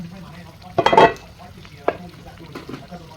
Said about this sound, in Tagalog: Ayan mga kaibigan, haluin lang ng haluin para lalong lumambot at lalong sumarap.